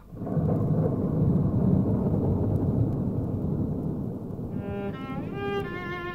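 A summer afternoon thunderstorm with a steady roar of rain and rolling thunder that stays loud and continuous throughout, with faint tonal notes rising near the end.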